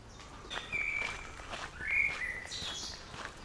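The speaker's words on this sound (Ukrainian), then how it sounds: "А пташки як співають." Birds sing in a palace park in Bad Kissingen, Germany, with thin, bright whistled phrases and chirps at a moderate distance over quiet outdoor ambience and faint footsteps.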